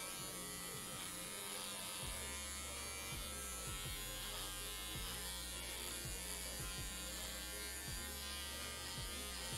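Electric hair clipper buzzing steadily and close throughout a haircut, its hum briefly shifting as it moves through the hair, with no talking.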